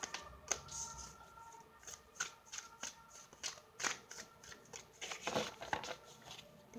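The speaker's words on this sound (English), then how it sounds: "I've been shuffling a lot lately for a couple signs." Tarot cards are shuffled close up in quiet repeated bursts of papery riffles and taps, with no one speaking.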